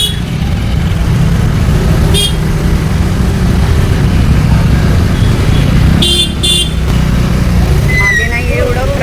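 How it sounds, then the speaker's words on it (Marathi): Rainy market-street traffic rumbles close by, with several short car horn toots sounding through it and one longer honking burst, while people talk over the noise. "मागे नाही एवढं ट्रॅफिक."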